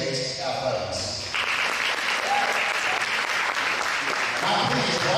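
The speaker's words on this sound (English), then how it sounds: "Please join me in applause for our game officials and their commitment to education-based athletics" Audience applause for the game officials before a high school volleyball match in a gym, a steady wash of clapping that lasts the whole stretch, loud and full with no talking over it.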